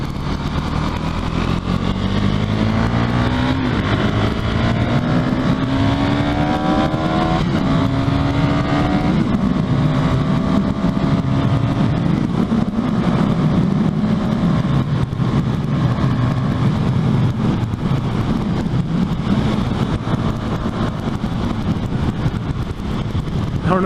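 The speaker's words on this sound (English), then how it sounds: "I don't know if you guys can hear that little engine go. It's trying." A KTM 390 Duke engine drones under load during a ride, rising in pitch through a couple of gear changes, loud and close with steady wind noise, no talking.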